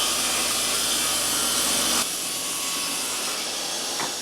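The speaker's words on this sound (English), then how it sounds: "To do this, we set the blade on the table saw at a 45-degree angle." A table saw, blade tilted to 45 degrees, cuts bevels along the edges of 1x6 boards. A loud, steady broadband roar runs for about two seconds, then drops abruptly to a quieter running hum with no voices.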